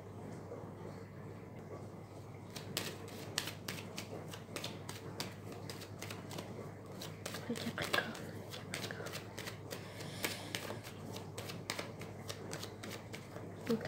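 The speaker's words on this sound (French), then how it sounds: "je vais faire une coupe avec le tarot que j'utilise tous les jours pour les consultations" A tarot card deck is shuffled by hand in a long run of crisp, rapid card flicks and riffles close by. A steady low hum sits underneath throughout.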